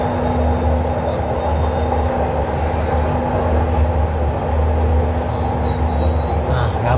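Steady rumbling ride aboard a Palembang LRT light rail train, with a constant low drone and a faint high whine carrying on evenly throughout.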